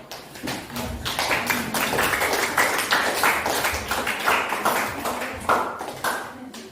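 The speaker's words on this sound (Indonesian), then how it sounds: "Tepuk tangan untuk kelompok." A classroom of students applauds a presenting group, a dense patter of clapping hands that fills the room steadily, with some voices mixed in.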